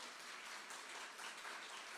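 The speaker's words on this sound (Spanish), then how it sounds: "dale un fuerte aplauso al Señor" Church congregation applauding together, a faint, even wash of many hands clapping that stays steady and unbroken throughout without rising or fading.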